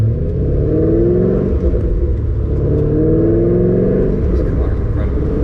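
A car engine warming up on a test drive hums and revs in gentle, repeated swells, with a steady low rumble heard close from inside the cabin.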